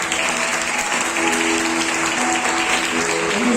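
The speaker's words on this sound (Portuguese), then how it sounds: "Podemos aplaudir o Senhor?" A church congregation applauds during a worship service, close and loud clapping from many hands that keeps an even level throughout, with faint voices mixed into the noise.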